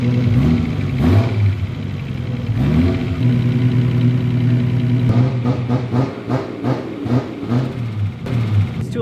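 Turbocharged Nissan Skyline GTR in limp mode revving in a garage, its engine surging up and falling back in repeated loud blips, held back below 3,000 RPM, with a rough idle between revs.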